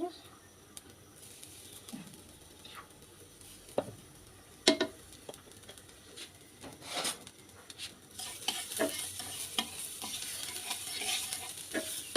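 Crushed garlic fries lightly in oil in a pan for garlic noodles: a faint sizzle runs under sharp, scattered taps and scrapes of a stirring utensil, getting busier toward the end, with people talking quietly nearby.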